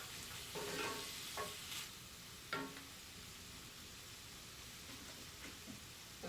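Lobster roll ingredients cook in a pan with a faint, steady sizzle, joined by a few soft scraping and clattering touches of a utensil early on, quiet and without talk.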